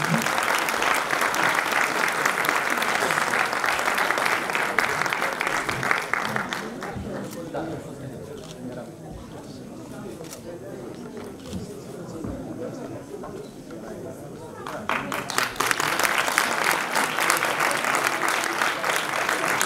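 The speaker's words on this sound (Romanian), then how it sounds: "Aplauze pentru doamna Ghițescu." An audience at a school centenary ceremony applauds a teacher with loud, dense clapping. It thins to a lighter patter midway, then swells again, while voices talk over it.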